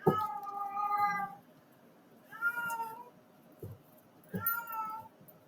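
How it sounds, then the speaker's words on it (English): A house cat meows loudly in three drawn-out, wailing caterwauls, each rising and falling before a pause, close by and with no talk over it. "my mom's cat is going crazy right now"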